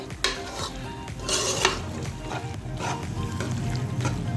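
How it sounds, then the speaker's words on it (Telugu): Pink sauce pasta stirred in a pan with a spoon, a steady scraping and clinking of utensil against metal with soft sizzling underneath, close and moderately loud, no voices. "దీన్ని ఒకసారి కలుపుకొని దింపేసుకుంటున్నాను"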